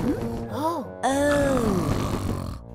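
A cartoon pig snores loudly in a treehouse, with a voice imitating the sound in long, rumbling, groaning breaths that rise and fall close up.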